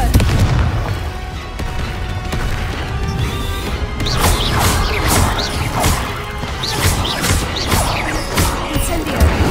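Repeated blasting spells in the Hogwarts Legacy video game, a dense barrage of crashing explosive bursts and whooshing impacts over a continuous game soundscape, loud and close throughout.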